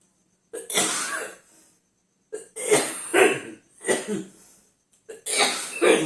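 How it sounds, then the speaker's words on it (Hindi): Four bursts of harsh, loud coughing close to the microphone, separated by short silences. "खांसी आ रही है भाई"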